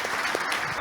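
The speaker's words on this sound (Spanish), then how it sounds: "Un aplauso" A short burst of audience clapping at a retrospective panel talk, steady and moderately close, cut off after under a second.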